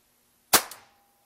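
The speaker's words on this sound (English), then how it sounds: "Firing just a primer alone on this empty 280 Remington case in the improved chamber." A single primer fired alone in an empty 280 Remington case in an improved chamber gives one sharp, close pop with a brief ringing echo, set against near silence.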